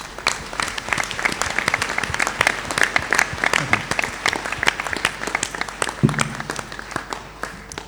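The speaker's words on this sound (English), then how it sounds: "I now ask the members of the audience to applaud your accomplishments." A large audience applauds graduates at a Monash University convocation ceremony, with steady, moderately loud clapping in a big hall and sharp individual claps audible throughout. A brief low voice or rumble breaks in near the end.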